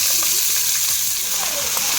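Steady, bright sizzling of greens frying in a pan, crackling continuously at close range with faint scattered voices.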